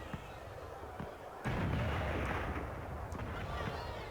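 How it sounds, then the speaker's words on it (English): Fireworks burst in Dragon Age: Inquisition: a few faint pops, then a loud booming blast about a third of the way in that crackles and rumbles as it slowly fades. "tilt our camera to the sky and try to blow up some fireworks."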